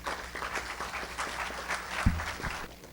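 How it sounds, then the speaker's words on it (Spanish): An audience at a technical talk on high-efficiency electric motors and lighting applauds to welcome the first presenter, an engineer, with moderately loud, even clapping from a crowd throughout, plus a brief thump near the end. "le vamos a dar un fuerte aplauso para recibirlo a él"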